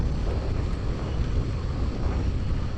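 Strong wind buffets the microphone in a steady, loud roar with no pauses, rumbling low and continuous throughout, at Upper Seletar Reservoir.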